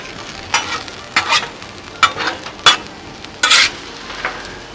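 Frozen vegetables sizzle in olive oil on a Blackstone griddle while being tossed around, a soft frying hiss broken by about six sharp scraping stirs, close and loud.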